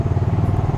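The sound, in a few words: motorcycle riding through town traffic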